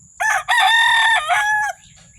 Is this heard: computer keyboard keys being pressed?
no